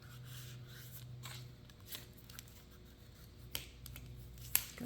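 Paper being folded and creased by hand while making a junk journal folder, soft rustles and a few sharp crisp snaps, close and quiet over a low hum.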